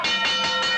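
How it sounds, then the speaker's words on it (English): Ringside bell at a St. Louis professional wrestling match, a bright metallic ring struck in quick repeated dings that blend into one short ringing burst. "There's the bell"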